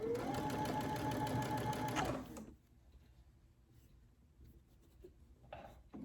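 A Brother Essence VM5200 sewing machine runs a steady, loud quilting stitch for about two seconds, then stops abruptly, leaving quiet handling noises and a brief soft rustle near the end.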